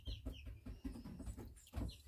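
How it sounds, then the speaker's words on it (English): Chinese Crested Silkie chickens make faint tapping and soft clucks nearby, quiet irregular knocks in a calm indoor setting with no talking. "That little tapping in the background is the chickens"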